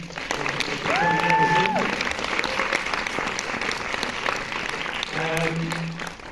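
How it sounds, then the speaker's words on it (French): Audience applause fills a cinema auditorium at a film screening discussion, steady clapping from a seated crowd throughout, with brief tonal whistles or feedback near the start and end. "on peut les applaudir"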